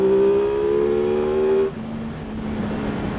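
Aprilia Tuono 660 motorcycle pulling hard in second gear, a loud rising engine note held for over a second before it drops away abruptly into a lower, rougher drone with wind rush.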